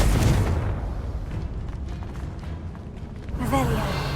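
A Confringo blasting spell goes off in the Hogwarts Legacy video game, a dense, rumbling boom that fills the clip and swells again at the end, with a voice briefly calling out over it.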